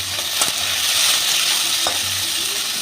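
Potato sticks sizzling in hot oil with fried mustard seeds and dried chilli, a close, continuous loud frying hiss with a couple of sharp clinks of a utensil.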